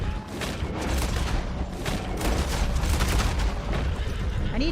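Pistol shots in Red Dead Online ring out as a rapid, uneven string of close reports over a busy, steady wash of game noise, with faint talk underneath.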